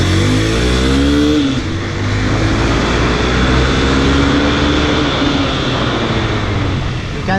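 A Hero XPulse 200T 200cc motorcycle accelerating on a city ride, its engine note rising loud and steady from start to finish with heavy wind rush and no talking.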